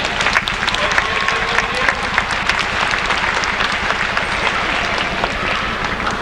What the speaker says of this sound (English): How about a round of applause for a Kai?